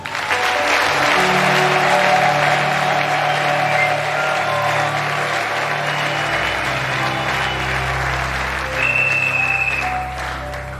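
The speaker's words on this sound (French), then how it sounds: "Ajoute les acclamations." A church congregation breaks into sustained applause and cheering, a dense, loud wash of clapping and shouts that holds steady for the whole stretch, with a sustained musical tone beneath it and a brief high whistle near the end.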